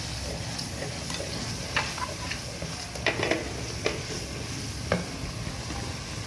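A spoon stirs a turnip and spinach curry in a pan, giving scattered light scrapes and clicks over a steady sizzle, close by and moderately quiet.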